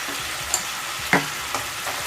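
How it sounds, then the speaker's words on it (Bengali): Kashmiri chili powder and turmeric fry in a pan for a spicy Bengali savory pitha filling, giving a loud, steady hiss with a few light clicks from the stirring spoon and no talking. "এবার এতে আমি কাশ্মীর লঙ্কা গুঁড়ো দেবো এক টিস্পুনের মতন"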